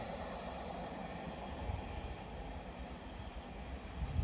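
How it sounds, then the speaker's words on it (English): A Nottingham to Leeds stopping passenger train passes through Alfreton as a faint, steady rumble of wheels on rail, with no voices. "As a Nottingham Leeds stopper comes the other way."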